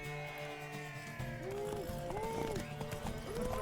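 Horse hooves in The Witcher 3 game: rhythmic clip-clop of a horse moving, with repeated pitched sweeps and background game ambience mixed in.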